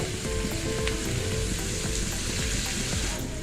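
Soy sauce sizzling in a hot pan of dragon fried rice with carrots, a steady close hiss of frying throughout with faint clinks.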